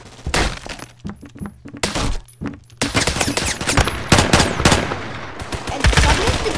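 Rapid automatic gunfire from a fast-firing gun in a Roblox shooting game: loud, dense rattling bursts, sparse at first and then nearly continuous, with no voices over them.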